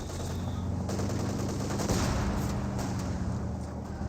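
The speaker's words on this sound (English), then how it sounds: "It looks like it is a barrage attack there." Company of Heroes 2 battle audio of an artillery barrage and gunfire: dense overlapping booms and rattling shots form a continuous, loud fusillade.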